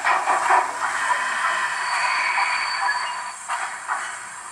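A Roco BR44 model steam locomotive with coal-dust firing and digital sound decoder, heard as a steady broadband hiss and rolling rail noise, with brief louder bursts as it brakes abruptly; close and fairly loud, no talking.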